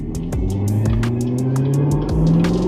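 A Chevy Corvette heard from inside while driving, its engine drone steadily climbing in pitch as it accelerates, with a rapid series of light ticks over the steady hum.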